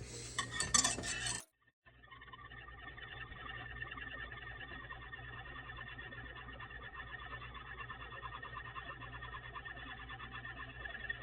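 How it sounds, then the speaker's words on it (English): A short louder clatter is followed by a brief pause, then quiet, steady stirring of a warming mixture for cinnamon rolls in a pan. The utensil scrapes and swirls faintly and continuously, with no talking. "Just letting it get warm, stirring it."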